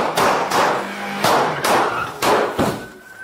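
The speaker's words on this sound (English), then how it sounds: "Shots fired." Police officers fire at robbery suspects in Fresno: about six loud, sharp gunshot bursts in quick uneven succession, close up, each followed by a brief echoing decay.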